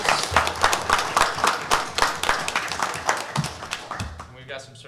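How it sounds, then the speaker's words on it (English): A round of applause from the attendees at a city council meeting honoring a Dixie Junior Boys World Series championship team, dense and steady clapping fading toward the end as a voice begins talking. "applause"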